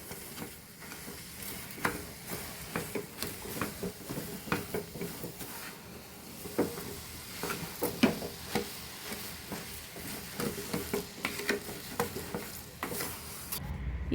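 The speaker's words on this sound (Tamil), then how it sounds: "நல்லா கிண்டி விடணும்." A spoon stirs Asoka sweet with sugar in a pan, giving steady scraping strokes against a soft sizzle, with irregular sharper scrapes throughout and a brief clatter at the end.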